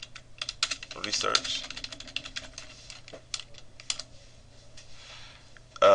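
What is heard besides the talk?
typing on a computer keyboard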